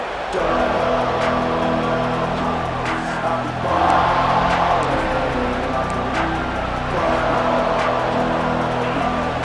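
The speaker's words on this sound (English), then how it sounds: "This crowd, full throat, spreading the eardrums and letting them know it's going to be a long day." A football stadium crowd at an Alabama versus Ohio State game roars in a broad, sustained wash, swelling in loud surges over a steady low rumble, with no voices standing out.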